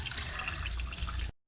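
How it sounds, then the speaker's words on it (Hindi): Cold water is poured over drained boiled rice for Hyderabadi chicken biryani, a close, continuous splashing rush that stops abruptly into silence. "इसके ऊपर ठंडा पानी पूरा डाल दें"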